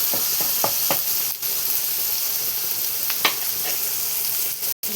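Softened tomato, onion, garlic and a pinch of turmeric fry in a pan for an eggplant dish, giving a continuous close sizzle broken by occasional spatula scrapes and clicks.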